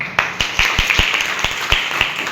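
Clapping for the founder of a karate academy at a karate demonstration and belt ceremony, sparse, distinct claps at an uneven rhythm from a small group, close and fairly loud.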